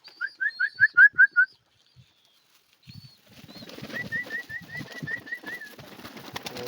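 Pigeons gather to eat scattered grain: a run of bright, repeated chirping whistles opens, then after a pause comes a busy stretch of fluttering wings and shuffling under another series of chirps.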